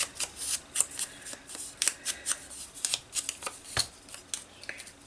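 Scissors snip through paper for a pocket journal insert, a series of crisp close cuts in an uneven rhythm, each snip sharp and brief with short pauses between.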